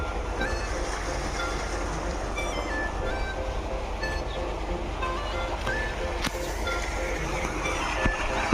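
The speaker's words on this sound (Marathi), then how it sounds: "हे पाणी आहे मित्रांनो आणि पंच्याऐंशी फूट खोल मी सोडलेली आहे मोठे तीन एच पीचा पंप आहे" Water gushes steadily from a large 3 HP solar-powered pump drawing from 85 feet deep, a constant broadband rush with a low rumble and no speech.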